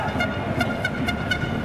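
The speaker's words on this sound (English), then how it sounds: "When the person in the crowd behind us started blowing that foghorn" A football fan in the crowd blows a foghorn in a string of short, bright, repeated blasts that cut through a steady roar of crowd noise.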